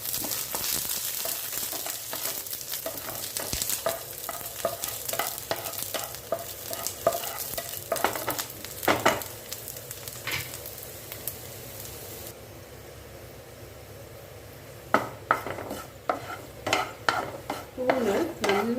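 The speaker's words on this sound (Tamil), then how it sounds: "இப்போ பூண்டு நல்லா வதங்குவாங்க, இல்லைன்னா அரிக்கும்" Garlic sautéing in sesame oil in a pan, with a continuous sizzle under frequent scraping and stirring of a spoon against the pan, quieter stretches broken by fresh bursts of stirring, no voices.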